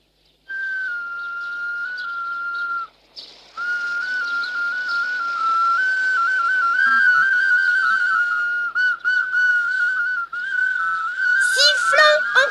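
Several people whistle a tune together in unison, a steady sustained melody running nearly continuously with a brief pause early on and a few quick chirpy flourishes near the end.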